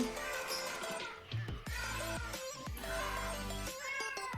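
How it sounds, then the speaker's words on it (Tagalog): A house cat meows repeatedly in a home in the Philippines, several drawn-out, fairly loud cries one after another, with no talking. "Ngayon, umiiyak ang pusa pero nabigyan ko na ng pakain."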